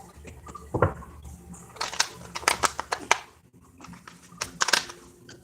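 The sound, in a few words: shuffling tarot cards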